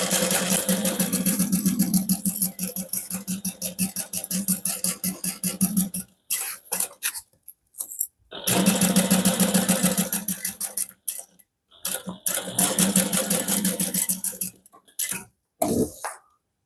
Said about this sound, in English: we're going to sew that together using a 1/2 inch seam allowance